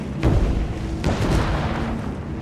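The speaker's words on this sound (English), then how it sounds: "The loud banging sound is them setting off dynamite to clear the area." Dynamite blasts set off to clear ground at a 1952 dam construction site, heard as two heavy, booming thuds about a second apart, loud and close, each rolling into a dense rumbling tail.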